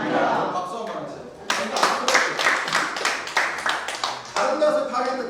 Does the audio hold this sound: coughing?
no